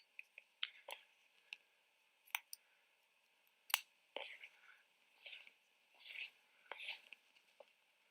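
Scissors snipping through hair during a haircut, a series of sharp, close metallic snips with soft rustling and a faint whisper-like texture between cuts, quiet and intimate.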